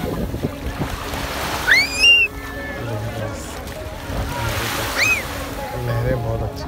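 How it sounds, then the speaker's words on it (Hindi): Gentle sea waves wash continuously at Marina Beach in Dubai, with bird calls chirping overhead and occasional faint voices. "लहरें बहुत अच्छी हैं, ज़्यादा तेज नहीं हुई है। समंदर की लहरें ज़्यादा तेज नहीं हुई"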